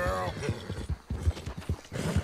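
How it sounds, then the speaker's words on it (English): Horse hooves clip-clopping in Red Dead Redemption 2 played in first person, a steady rhythmic trot of close hoofbeats with a brief whinny at the start. "I'm feeding my horse, then I'm running it dry,"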